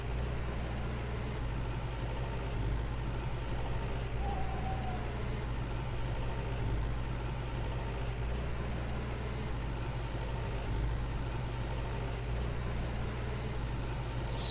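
A tractor engine idles steadily in a farming game while plowing with a cultivator. The low drone continues without a break, with faint insect-like chirping above it and a soft, regular beeping toward the end.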